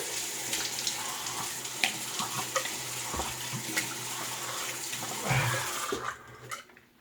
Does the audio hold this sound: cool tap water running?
yes